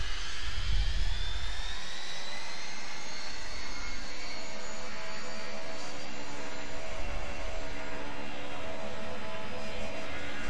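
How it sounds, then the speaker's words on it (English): Jet engines of a DC-10 airliner in a flight simulator game spool to full throttle, a loud, steady, broad roar with high whine that holds constant throughout, heard alone. "So here, let's give full throttle."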